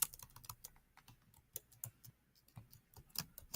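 A computer keyboard is typed on in a quick, uneven run of light, crisp keystrokes, soft and close, with no voice.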